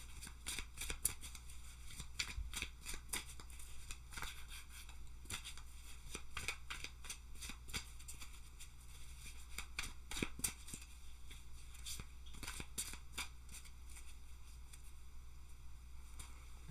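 Tarot cards are shuffled over and over in quiet, soft papery riffles and flicks coming in quick bursts, close up.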